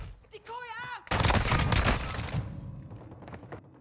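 A shotgun in Modern Warfare 2 fires a loud, close burst of heavy blasts with rattling reports. A short synthetic game tone comes first, and the blasts decay into scattered echoing shots.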